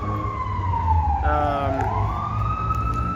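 An ambulance siren wails loudly as it passes close by on a city street in Quetzaltenango, Guatemala, its pitch sliding downward over a constant rumble of street traffic.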